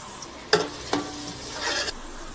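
Onion, crushed garlic cloves and a piece of cinnamon frying in oil in a pan for mutton curry, heard as a continuous sizzle broken by a couple of sharp stirring clatters, close up and with no talk.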